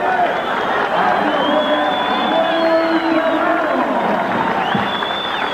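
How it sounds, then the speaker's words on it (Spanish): Boxing fans in an arena applaud and cheer in a steady crowd roar, with occasional whoops, under a male announcer's commentary. "El aplauso de la fanaticada del boxeo es para Samuel Serrano"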